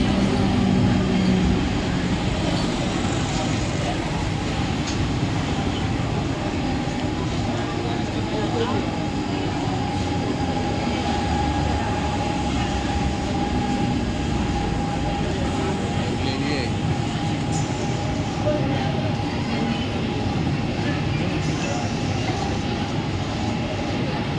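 A Mumbai local train rumbles steadily at Diva junction station at night, a continuous loud rolling roar heard from the platform, with voices and a public-address announcement running underneath.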